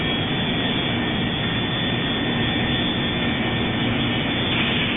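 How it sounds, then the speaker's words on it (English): A Su-27 fighter's left jet engine spools up in the flight simulator game Lock On, giving a steady, loud, broadband whine and rush that holds constant with a faint tonal hum underneath, with no talking. "Left engine start."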